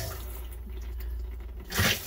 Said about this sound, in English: we'll just turn on the cold water